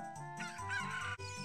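A chicken clucks in the video game The Legend of Zelda: Ocarina of Time, a short run of close, clear, synthesized fowl sounds with game audio behind.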